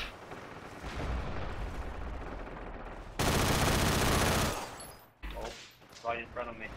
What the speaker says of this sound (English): Getting some return fire now.